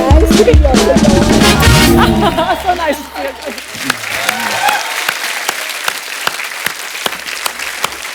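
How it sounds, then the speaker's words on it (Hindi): Loud applause from a TV comedy show's studio audience: dense clapping with some laughter in the first few seconds, then thinning into scattered individual claps. "जोरदार तालियां"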